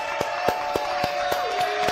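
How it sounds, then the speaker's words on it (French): A studio audience applauding on a French television show, a steady spread of clapping with faint cheering and whoops mixed in, fairly loud and continuous throughout. "vous avez raison, public adoré de nous applaudir"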